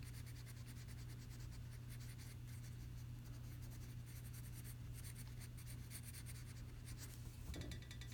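Colored pencil shades darker green onto paper for a garden plan drawing, a steady, soft, close scratching that runs without a break, with faint background hum.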